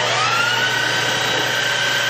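A Standard Modern 13 x 20 precision lathe with a D1-4 camlock spindle runs steadily at 1800 RPM, a smooth constant whine with a faint tonal hum, no voices.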